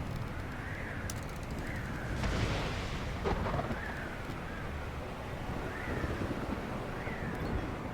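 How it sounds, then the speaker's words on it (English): Thunderstorm ambience from the survival game Stranded: Alien Dawn, with steady rain and wind and a low rumble of thunder swelling around the middle, plus a few cawing bird calls, continuous throughout. "Just a bit of a thunderstorm."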